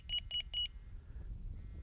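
A Delkim TX-i carp fishing bite alarm sounds three short, bright electronic beeps in quick succession, close and clear, followed by quiet low background rumble.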